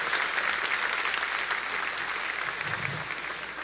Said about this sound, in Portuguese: vamos dar uma salva de palmas, gente, para esse pessoal especial